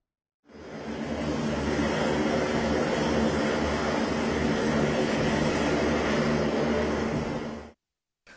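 A special aircraft carrying bodies roars steadily and loudly at close range, a broad continuous engine drone that holds for about seven seconds before cutting off abruptly.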